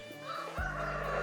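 Chickens cluck and a rooster crows in an old village in Greece's Vikos area. The calls are close and clear, and a louder crow swells partway through the short stretch.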